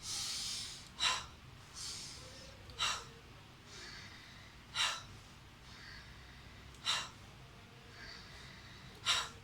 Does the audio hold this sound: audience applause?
no